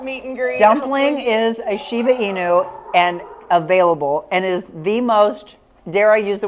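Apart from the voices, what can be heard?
No distinct noise like a dog, phone or traffic.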